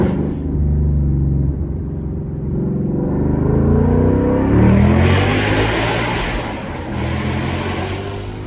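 A 2025 Ford Mustang with a 5.0 V8 and Roush exhaust rumbles loud and close, its deep idle swelling into a rising rev about halfway through, then holding a strong, throaty roar.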